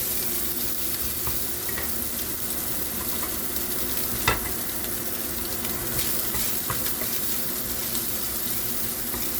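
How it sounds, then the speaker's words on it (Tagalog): Ground pork sizzles and browns in a frying pan, a steady close crackle with occasional stirring scrapes and one sharper knock. "So ground pork muna. Medyo pa-brown lang natin siya kaunti."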